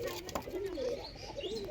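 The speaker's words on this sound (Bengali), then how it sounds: "এই পায়রা দেখুন" Pigeons of the Punjabi Malwahi breed coo in a loft with newly hatched chicks, a steady run of soft, wavering low calls close by over faint background noise.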